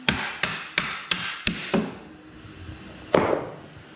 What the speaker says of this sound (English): give me the mallet. You pick up and I'll hit it.